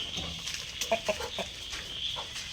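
Soft, irregular clucking from nearby chickens, a few short clucks standing out over a low background hiss.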